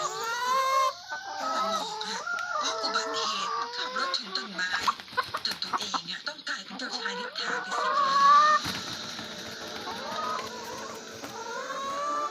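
Farm chickens cluck and squawk constantly in a busy flock, with a rooster-like call rising now and then, loud and close, with occasional voices mixed into the clamor.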